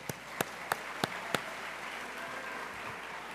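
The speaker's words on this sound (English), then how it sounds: "Clap it up, Leon Rose." Scattered applause from a graduation ceremony audience, with five loud, evenly spaced close claps standing out over a thinner background of clapping.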